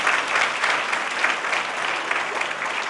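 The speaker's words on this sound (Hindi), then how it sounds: "बजाइए ताली थोड़ा सा लागिए" Audience of teachers applauding together, a dense, steady wash of clapping that holds evenly throughout, close and fairly loud.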